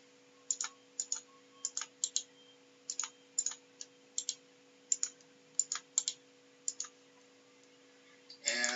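Computer mouse clicks during work in SPSS Modeler, crisp paired clicks repeating at irregular intervals over a faint steady electronic hum, close and quiet, ending in a brief louder rustle.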